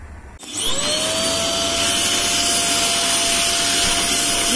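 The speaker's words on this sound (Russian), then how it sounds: "Никому никогда не приходило в голову пылесосить валики. А мы это делаем." A vacuum cleaner switches on with a thump, then whines up to a loud, steady roar with a rising high tone as it is run over paint rollers indoors during a renovation.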